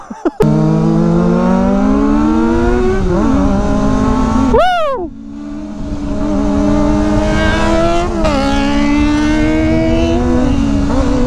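A newly bought motorcycle's engine revs loud and close, its pitch climbing and dropping through several throttle blips with a brief sharp rise midway; a person gives a short excited shout at the start.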